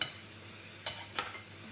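Liver pieces frying in a pan give a faint, steady sizzle with two brief stirring scrapes partway through, no voices.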